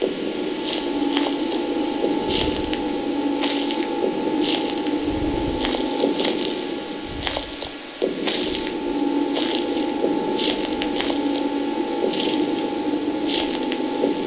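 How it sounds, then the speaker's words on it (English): Static in the horror video game Slender: The Eight Pages, a continuous crackling hiss with scattered sharp bursts and squelchy clicks, droning steadily over a low hum for about fourteen seconds. "I keep hearing static, but I don't know where he is or anything."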